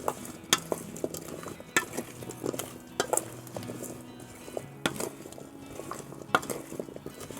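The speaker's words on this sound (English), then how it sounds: "Let's give this a mix now" A spoon stirs and scrapes ingredients in a pan while cooking steak and potatoes, giving repeated clinks and taps against the cookware over a soft sizzle, alone and fairly close.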